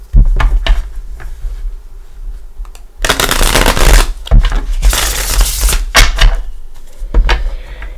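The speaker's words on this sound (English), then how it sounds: "Again, already pre-shuffled, but we'll give it a shuffle or two." Gilded Tarot deck being shuffled by hand, close and loud, with a few short riffles and taps early on, then two longer bursts of shuffling, the second broken by brief pauses.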